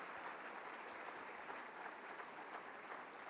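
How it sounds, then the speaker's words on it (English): Audience applause fills a conference opening session, a steady, even wash of many hands clapping at a fairly low level for the whole stretch, with no voices rising above it. "give them a great round of applause"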